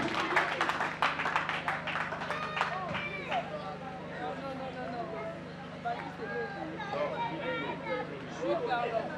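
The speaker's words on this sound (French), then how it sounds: "On applaudit pour Ambangi." Crowd clapping for a pupil at a school awards ceremony, a burst of applause at the start that gives way to chatter and crowd murmur, with scattered claps returning near the end.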